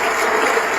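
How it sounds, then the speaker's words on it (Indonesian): Steady applause from a conference audience at a food expo press event in Indonesia, dense and continuous clapping throughout with no speech over it. "Kita berikan tepuk tangan dulu."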